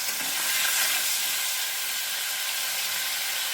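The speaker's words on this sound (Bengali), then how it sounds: "এখানে এই কড়াইয়ের তেলটায় মাছগুলো ছেড়ে দেওয়া হচ্ছে ভাজার জন্য" Prawns frying in hot oil in a wok, a steady, loud, close sizzle with a broad hiss that holds evenly throughout and no talk over it.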